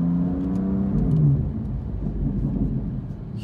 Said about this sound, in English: You hear those burbling sounds?